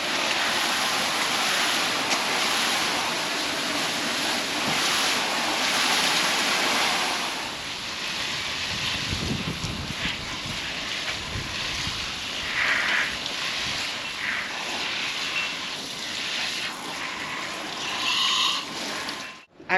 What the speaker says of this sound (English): let me get the hose and we'll water these in